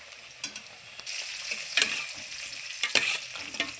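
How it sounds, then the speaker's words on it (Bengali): Arum stems are stirred in boiling salted water in a pot, with scraping utensil strokes and bursts of bubbling and sizzling that swell after the first second, close by and moderately loud with no talking. "গরম জলের মধ্যে আমি নাড়চাড় ভালো করে করে দিচ্ছি"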